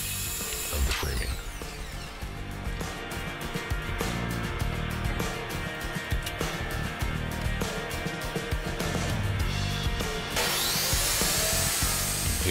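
Wooden framing boards trimmed to size in a shop with a saw, a loud continuous rasping cutting noise running steadily for about ten seconds before it cuts off, leaving quieter room sound.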